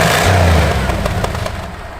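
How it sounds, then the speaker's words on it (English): A 1965 Ford Mustang's engine rumbles up close and is revved briefly, with low throaty bursts that settle back into a sputtering idle. "Give it a little rev."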